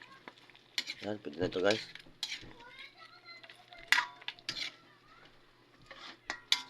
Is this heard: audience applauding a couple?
no